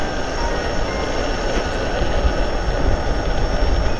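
A Rockwheel GT16 electric unicycle accelerating on a hillside road above Toulon, with a steady loud rushing roar of motor whine and wind noise that builds slightly, no talking.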